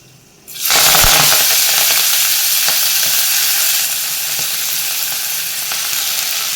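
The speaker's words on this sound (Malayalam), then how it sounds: "ഇതിലേക്ക് നമുക്ക് ഉലുവ ഇല ഇട്ട് കൊടുക്കാം" Fresh fenugreek leaves drop into hot oil with garlic in a pan, setting off a sudden loud, dense sizzle that holds steady and close, easing slightly, with faint stirring ticks underneath.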